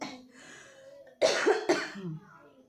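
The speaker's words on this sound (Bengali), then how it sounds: "দেখছো তো কীরকম কাশি কাশি হয়েছে" A person with a cold coughs twice, close and loud, a pair of harsh rough bursts after a moment of low throat noise.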